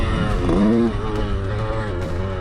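A 125cc two-stroke motorcycle engine bogs at low revs, giving a loud, strained, uneven drone with a brief rising wobble near the start, and a voice talks over it.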